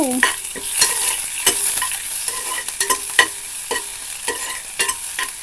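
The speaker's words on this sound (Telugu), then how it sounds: "ఆనియన్స్ కూడా వేసి కొంచెం బ్రౌనిష్ అయ్యేంత వరకు అండ్ ఖచ్చితంగా లో ఫ్లేమ్ ఫ్లేమ్లోనే మీరు కుక్ చేసుకోండి" Onions fry on a low flame for beetroot curry, a soft continuous sizzle punctuated by regular, sharp scrapes of a spoon stirring the pan, close and fairly loud with no speech.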